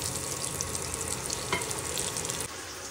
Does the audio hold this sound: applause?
no